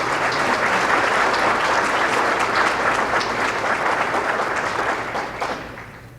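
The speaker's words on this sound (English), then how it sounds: "Big round of applause for Rachel Bewley and her parents" Banquet audience applauds warmly, a thick wash of many hands clapping that stays full for several seconds then begins to fade toward the end.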